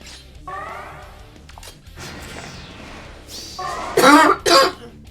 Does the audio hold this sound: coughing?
yes